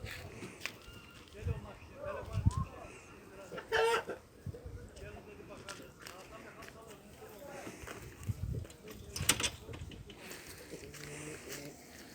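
Hens clucking in short bursts amid a busy farmyard, with people talking nearby and occasional footsteps.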